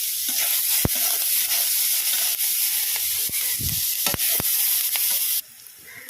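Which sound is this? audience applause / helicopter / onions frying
onions frying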